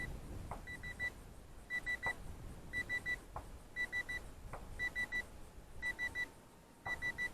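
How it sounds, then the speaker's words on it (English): A model plane's radio transmitter beeps in short repeating groups of high tones, with a steady low hum and occasional clicks underneath. "That's a transmitter beeping."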